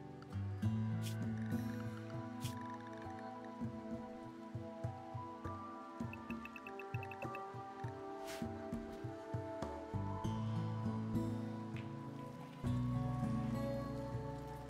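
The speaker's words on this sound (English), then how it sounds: "hopefully this rain will clear up and we can take some decent shots at these guys during the day" Rain falls in the Rimworld video game, a steady patter of drops under continuous game music and ambient tones, with soft drip-like ticks scattered throughout.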